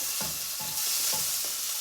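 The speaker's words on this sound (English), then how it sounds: "Okay, we're sizzling. We're sizzling now." Food sizzling loudly in a hot pan, a constant hiss broken by a few short scraping stirs.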